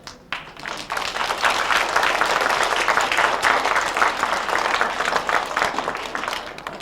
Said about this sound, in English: Let's have a big round of applause for the multi-talented radio players.